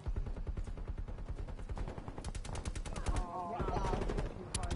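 Automated hostile sentry turret in the Call of Duty Black Ops Cold War multiplayer match fires rapid, steady bursts of gunfire throughout, with game sounds and voices mixed in.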